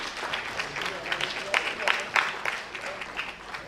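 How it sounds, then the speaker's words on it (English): An audience at the ISGH 2024 event claps for a guest, a fairly faint patter of scattered hands with a few sharper claps rising midway. "A big round of applause, please."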